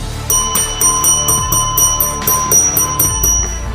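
A bright bell rings in quick repeated strikes, about a dozen in a steady rhythm, loud and close.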